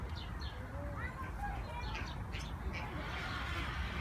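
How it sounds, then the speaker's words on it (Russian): In a zoo aviary in Baku, birds give faint chirps and calls against steady outdoor background noise, with no clear speech. "вольер с птицами"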